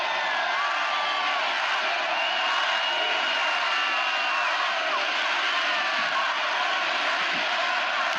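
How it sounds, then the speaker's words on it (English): Large crowd cheering at a gala event for Vladimir Putin celebrating an annexation, a dense continuous roar of voices sustained at steady loudness throughout. "Notice how the people cheer for him."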